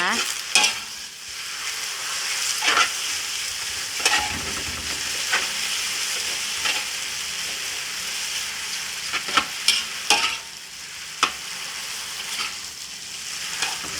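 Noodles stir-fried over high heat with dark soy sauce for pad see ew, a constant loud sizzle broken by sharp, regular spatula scrapes and clacks against the pan.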